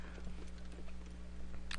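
Horse hooves clip-clopping at a steady walking pace in the Red Dead Redemption video game, moderately close, with a low constant hum of game ambience underneath and no talking.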